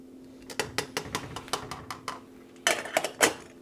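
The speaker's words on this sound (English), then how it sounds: "Give it a stir." Spoon scraping and clinking in a pot of cheesy survival-meal food, a string of quick, fairly close metallic taps and scrapes in an uneven rhythm, with a denser burst of clatter near the end.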